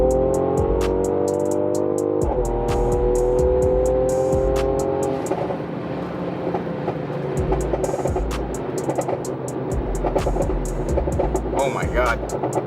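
A 2018 Mercedes AMG C43 downshifts and accelerates on a highway, its engine rising in pitch through the gears with a loud, close drone. Excited voices react over it.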